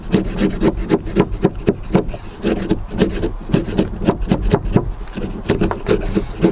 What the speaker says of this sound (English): I just started kind of peeling down here like this.